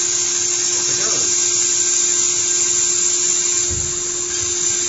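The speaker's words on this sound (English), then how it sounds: "So this is a contour router. It cuts on the edge of the board" A CNC contour router bit cuts the edge of a PCB board with a steady high-pitched whine and buzzing hum, and someone talks over the machining noise.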